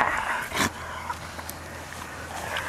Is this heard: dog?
yes